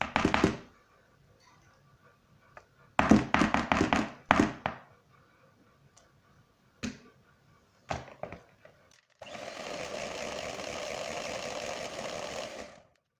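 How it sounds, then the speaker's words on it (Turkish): An electric mixer whisks cocoa cake batter with labneh added. A few scattered knocks and clatters come first, then a steady, close whirring runs for several seconds before cutting off. "Ve tekrar çırpmaya devam edeceğiz."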